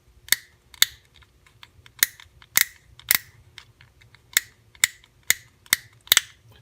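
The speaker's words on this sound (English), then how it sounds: "And it has nice little clicks so it tells you exactly what speed you landed on." The speed dial on a SnapFresh 12V cordless rotary tool is turned step by step, giving about ten crisp, sharp detent clicks, close and distinct, spaced irregularly with quiet gaps.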